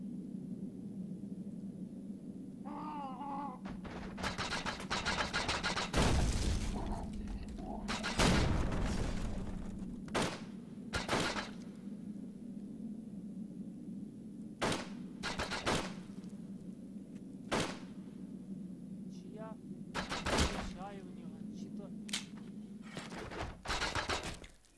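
Video game gunfire and booms in You Are Empty come in irregular volleys with pauses between, loud over a steady low mechanical hum, no voices.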